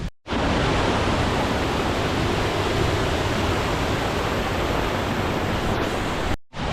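A loud, steady rush of a waterfall on a hike up Scafell Pike roars continuously, close by and unbroken, with no voices over it.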